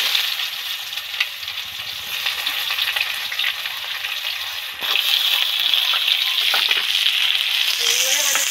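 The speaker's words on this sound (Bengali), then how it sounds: "পেঁয়াজ কুচিটা দিয়ে দেব" Chopped onions hit hot oil with spices in a home kitchen for a Bengali tiger prawn dish, a steady sizzle that swells into a brighter, louder hiss about halfway through.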